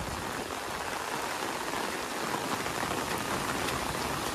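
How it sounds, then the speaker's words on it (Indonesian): Heavy rain pours steadily on a mountain village, a dense, continuous hiss of drops on surfaces close by, unbroken and without voices. "Baru kali ini saya jalan-jalan di pedesaan, di desa pegunungan, diguyur hujan seperti ini."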